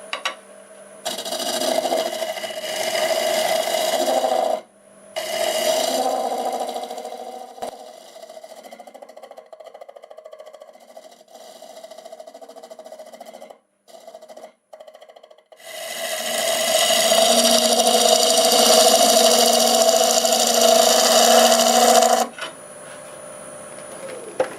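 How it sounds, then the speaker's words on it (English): A negative rake scraper blends a corner on wood spinning on a lathe, giving a raspy, whirring scrape in bursts, with quieter stretches of the lathe running between cuts. "Use my negative brick scraper just to get a nice little blend in here."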